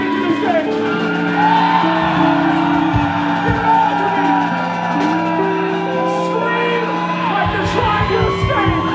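A concert crowd at a band's final set shouts, whoops and yells steadily, a dense roar of many voices calling the band back to the stage, with some louder cries rising above it.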